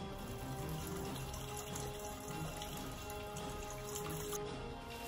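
Water runs into a half-empty plastic bottle outdoors in a forest, a faint, continuous trickling and splashing with no speech.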